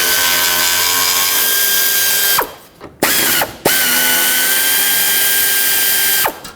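A hand ratchet clicks steadily while loosening the 10mm bolts holding the AC condenser of a 2007-2010 Chrysler Sebring, with brief pauses between runs of ratcheting, close and clear.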